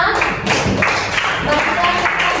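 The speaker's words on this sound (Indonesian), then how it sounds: "Oke, tepuk tangan untuk kita semua." A classroom group clapping together for everyone, a dense continuous patter of hands with voices mixed in.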